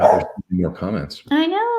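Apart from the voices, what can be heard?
dog barking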